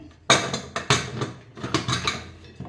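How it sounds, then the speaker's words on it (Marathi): A series of sharp metallic clanks and clicks, a lid fitted and locked onto a pressure cooker of wheat kheer, loud and close with short pauses between. "कुकरचं झाकण लावून"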